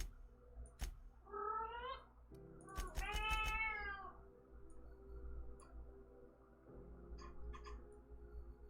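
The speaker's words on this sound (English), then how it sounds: "She got on the shelf and is meowing now." A cat on a shelf meows several times, close and distinct, with a couple of drawn-out rising calls over a soft background of ticking and faint game audio.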